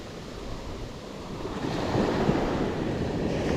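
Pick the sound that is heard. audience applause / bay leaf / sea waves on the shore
sea waves on the shore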